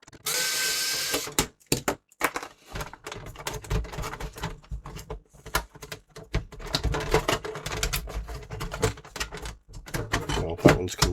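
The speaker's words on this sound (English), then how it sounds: "Take all these screws out here." Screws being backed out of the top panel of a broken Sony hi-fi give a string of close, dense clicks, scrapes and ticks that run right through, alone with no voices.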